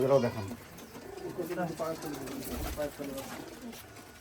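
Soft cooing from Pakistani flying pigeons in their loft comes in short repeated phrases, mixed with a low murmur of nearby talk.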